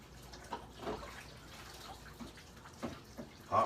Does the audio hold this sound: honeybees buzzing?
no